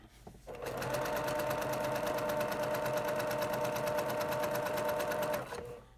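A sewing machine runs steadily for about five seconds, stitching a few stitches in reverse; its fast, even needle chatter is close and constant, starting and stopping cleanly with no talking.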